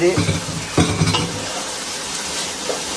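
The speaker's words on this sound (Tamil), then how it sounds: "இந்த பச்சை மிளகா வெங்காயம் எல்லாத்தையும் போட்டு நம்ம தாளிச்சிட்டு இருக்கோம் ஃப்ரெண்ட்ஸ்" Green chillies and onions frying in a pan for biriyani, stirred now and then: a continuous close sizzle broken by a few scraping spatula strokes, with clearer strokes early on and one near the end.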